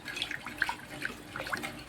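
Water splashing and trickling into a cooking pan while making mango curry, close by, with small drips and bubbling bursts over a couple of seconds, no talking.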